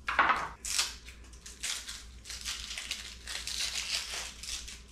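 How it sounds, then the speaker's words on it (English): Onion skin is peeled by hand in a kitchen, giving close, dry crackles and crinkling rustles in several short bursts, with no talking. "We're gonna cut an onion real quick."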